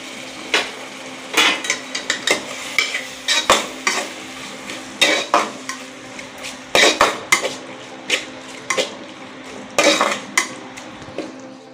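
Mutton biryani masala is stirred with curd in a metal pot, giving repeated sharp spoon scrapes and clanks in an irregular rhythm over a soft background sizzle, close and fairly loud, with no talking.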